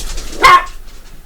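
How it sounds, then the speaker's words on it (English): A dog gives a single sharp bark indoors in a home kitchen while pizza rolls are being cooked, loud and close against a quiet room, with a faint trailing whimper afterward. "And more dogs."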